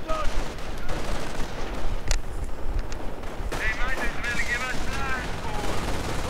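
Machine-gun and artillery fire from a real-time strategy war game, with an MG42 and a howitzer among the weapons, crackling in dense bursts with sharp reports throughout, under continuous commentary.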